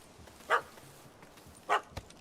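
A dog in The Witcher 3: Wild Hunt gives two sharp, separate barks about a second apart, fairly close, over quiet game ambience.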